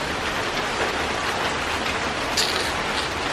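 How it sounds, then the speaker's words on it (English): Heavy rain pours down during Hurricane Irma in South Florida, a loud, dense and unbroken hiss of rainfall that holds steady throughout with no voices over it. "But now it's pouring rain."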